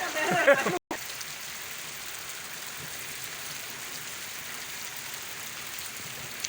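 Even, continuous rainfall hisses throughout after a brief burst of talking at the start, steady and moderately loud with no letup, in a Punjab village.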